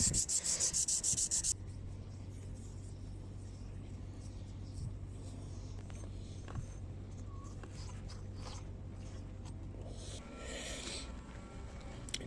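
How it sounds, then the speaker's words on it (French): Wood on a boat's anchor locker is sanded in a long, steady abrasive rub that runs continuously at close range, with a low machine hum underneath for most of the stretch. "Ça ponce, ça ponce."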